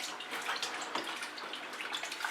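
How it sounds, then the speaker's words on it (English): Hands rinsed under a running tap, a soft, steady wash of water with faint splashing throughout, heard alone at low level. "rinse my hands off"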